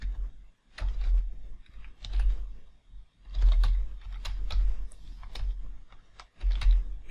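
Computer keyboard typing in short bursts of rapid, close key clicks separated by brief pauses, with no voice over them.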